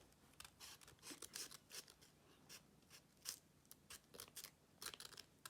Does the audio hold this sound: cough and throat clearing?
no